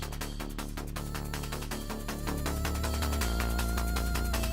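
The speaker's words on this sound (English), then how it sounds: "When that spider pops up, the music is going to immediately add in the spider cue" Busy electronic game music cue for a spider enemy appearing, with driving percussion, hi-hat, a pulsing bass line and a bright melodic layer, growing fuller partway through and playing continuously without voices.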